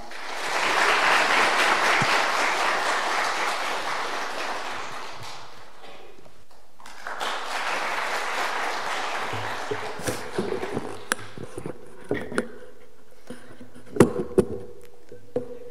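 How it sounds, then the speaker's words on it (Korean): Broad applause from a graduation ceremony audience swells for several seconds, dips briefly, then rises again before thinning into scattered claps and a few sharp taps. "큰 박수 부탁드립니다"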